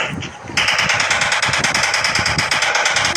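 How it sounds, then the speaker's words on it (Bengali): A machine gun firing in the Indian Bikes Driving 3D video game, a rapid, loud, rattling stream of shots that starts abruptly after a brief lead-in and keeps hammering steadily to the end. "এ কেমন সাউন্ড? Machine gun"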